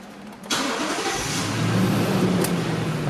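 A 2008 Lexus LX570 with 171,000 km fires up from keyless push-button start: a sharp crank at about half a second catches into a steady, close, rumbling idle that holds loud to the end, with no talking.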